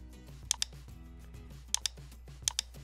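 Close clicks from a computer keyboard come from typing into a shape in Microsoft Word, in three brief clusters of two sharp keystrokes each over a low steady hum.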